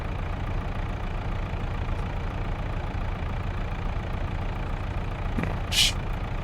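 Vehicle engine idling in a farming video game, a steady low mechanical drone that holds evenly throughout, with a short hiss of air near the end.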